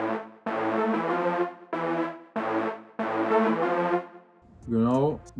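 A simple two-bar synth lead melody made with a lead sound in FL Studio, repeating in short sustained harmonic phrases with brief gaps, loud and alone, ending in a rising swooping tone.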